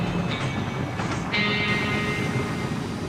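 A scenic passenger train rumbles steadily down through a steep Southern Alps gorge, a continuous loud low drone of wheels and carriages with faint metallic squeals, heard from on board.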